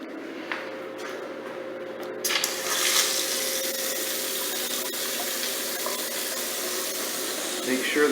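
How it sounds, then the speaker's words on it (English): A bathroom vanity tap opens after installation and water rushes steadily into the sink, close and continuous, with a faint hum underneath. "it's time to turn the water on."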